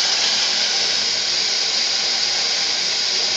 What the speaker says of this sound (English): now let's run the water to see if we get bubbles.